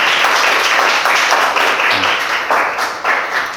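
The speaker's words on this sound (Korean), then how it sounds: "박수 한번 주시죠" A lecture audience gives the speaker a loud round of applause. The hand claps are dense and rapid, swelling and easing in waves, and no talking is heard over them.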